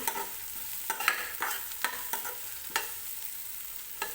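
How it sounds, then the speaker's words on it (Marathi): Ground masala paste fries with onion and tomato in a pan while a spoon scrapes and stirs it in repeated rhythmic strokes over a soft sizzle, close up with no talking. "वाटण सुद्धा व्यवस्थित कांदा टोमॅटो सोबत भाजून घ्यायचं आहे"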